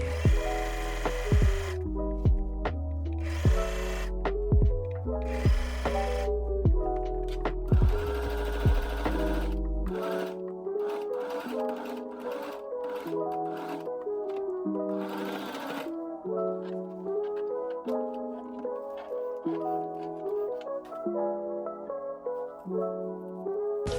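Sewing machine stitching a seam on a satin bonnet, running in steady bursts of rapid needle clatter with brief stops, close and clear over background music.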